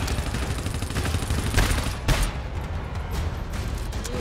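Gunshots ring out in the game GTFO, a continuous dense barrage of firing with a couple of louder shots standing out, loud and close.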